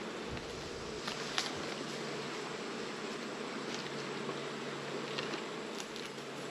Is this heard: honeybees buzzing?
yes